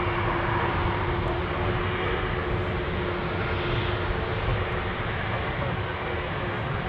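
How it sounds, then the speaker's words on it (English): A Boeing 747 banks left after takeoff from Anchorage airport, its engines producing a loud, steady, broadband roar that holds evenly throughout, with no other sounds standing out. "There goes the left bank for the 747 after departure."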